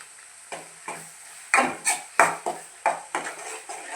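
Grated coconut stirred in a hot pan with a utensil: a series of sharp scraping strokes against the metal over a soft sizzle, irregular and close, with no talk.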